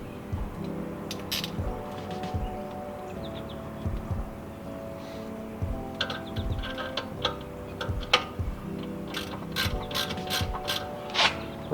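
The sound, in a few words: wrench tightening bolts on BMW F30 rear brake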